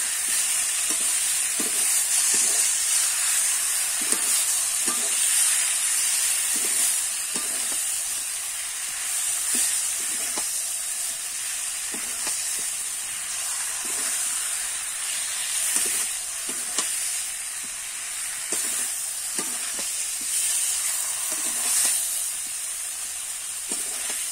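Fried cauliflower and potato stir-fried in oil in a pan, with a continuous loud sizzle and regular, rhythmic scraping strokes of a spatula across the pan, close and without talk.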